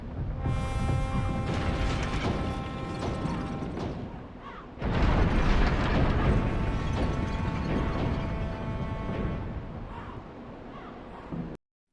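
A gate-opening mechanism in Dark Souls Remastered grinds and clanks in two long surges, a rumbling mechanical roar with metallic ringing, building again halfway through before stopping abruptly.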